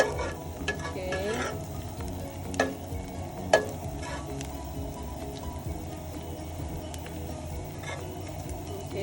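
Minced garlic sizzles and fries in oil in a pan as the base for pancit, with a steady crackle broken by a few sharp scrapes and taps of a stirring utensil, heard up close.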